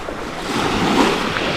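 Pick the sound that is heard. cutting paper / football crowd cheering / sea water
sea water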